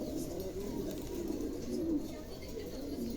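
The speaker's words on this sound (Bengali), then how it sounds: "চমৎকার একজোড়া কবুতর, নতুন একদম নতুন নিউ অ্যাডাল কবুতর" A pair of adult blue barless pigeons coos softly and continuously, a low, rolling murmur that stays quiet and close throughout.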